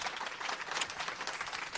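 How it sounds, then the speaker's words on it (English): A brief, faint burst of dense applause for a presenter at a startup founder event, heard as a distant, even crackle of many hands. "Okay, let's give her a big round of applause."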